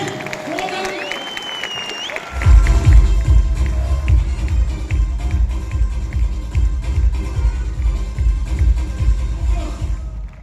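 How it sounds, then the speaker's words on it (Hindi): Loud, sustained applause from an audience at a motivational speech, dense rapid clapping starting after a brief pause and continuing steadily to the end, with crowd noise mixed in. "समझ में आ रही है तो जोरदार ताली बजा देता हूं।"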